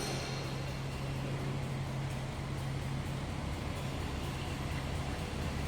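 A 1947 Ford Deluxe four-door sedan's flathead engine idles in a steady, low, even drone with a constant hum, heard from inside the car with no talking.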